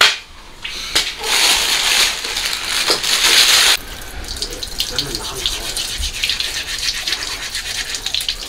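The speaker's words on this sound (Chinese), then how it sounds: "咱们简单的用这个钢丝球刷一下就行了" A pork trotter scrubbed with steel wool under running water, harsh rhythmic scraping strokes close to the microphone, mixed with tap water splashing in a sink.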